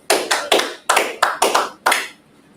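A classroom group claps together in about seven sharp, rhythmic bursts with short pauses between them, loud and close, then falls quiet.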